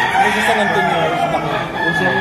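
A rooster for sale at a Philippine poultry market crows loudly and close, a long continuous cock-a-doodle-doo with clucking fowl and crowd murmur behind it.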